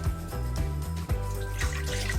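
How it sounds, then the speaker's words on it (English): Three cups of water poured into a cooking pan while making molokhia, a steady splashing pour lasting about two seconds over a constant tonal background. "3 cups of water."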